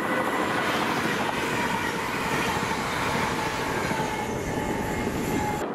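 Class 380 unit 380-103 rushes past at Redhouse. Its steady roar of wheels on rail fills the whole stretch, loud and close, with a faint squeal running through it.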